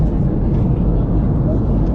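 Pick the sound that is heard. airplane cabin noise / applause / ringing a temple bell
airplane cabin noise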